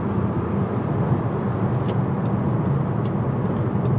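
MK6 Volkswagen GTI driving along the road, a steady, close engine and road rumble with faint high hisses near the end, as the car slows toward a complete stop.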